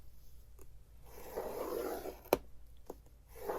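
A bone folder or scoring tool pressed along a sheet of craft paper to make a score line for a multi-pocket booklet: faint scraping strokes with a sharp click midway, quiet and close.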